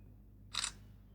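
A single short shutter click from the rear camera of a Samsung Galaxy A01 phone, crisp and close, against a quiet room.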